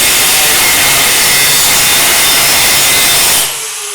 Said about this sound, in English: I have my cut from the grinding wheel cutoff wheel right there